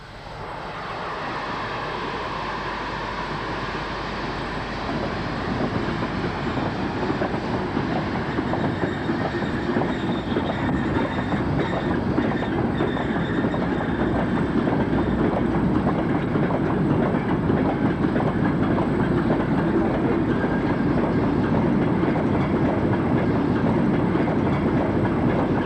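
A three-cylinder class O2 2-8-0 steam locomotive hauls a heavy ore train at a junction with the main line, a steady, loud rumble of wagons and rhythmic clickety-clack building over about 25 seconds with no talk.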